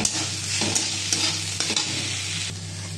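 Vegetables fry in a pan with a steady sizzle while a utensil stirs them, scraping and clattering in several distinct strokes, close and fairly loud, with no one talking.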